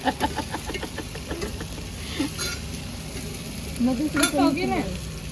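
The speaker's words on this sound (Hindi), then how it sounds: "ये मैंने डाल दिया भाई कुंडी में पिसी हुई मिर्च, लहसुन, अदरक, टमाटर और मसाला" Ground chilli, garlic, ginger, tomato and spice mix hiss and sizzle steadily in a kadhai, close up, with a brief vocal sound rising over the frying near the end.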